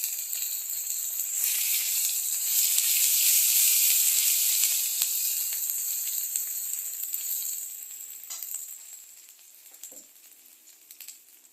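Ginger paste fries in a pan for the fish curry, giving a steady bright sizzle that peaks early and then eases to a softer hiss, with faint stirring taps near the end.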